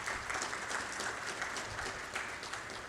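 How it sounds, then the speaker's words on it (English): An audience at the TiEcon Florida 2016 entrepreneurship conference applauds in a dense, steady wash of many hands that is fairly soft and distant and keeps going without a break. "So give TiE Tampa Bay a wonderful round of applause."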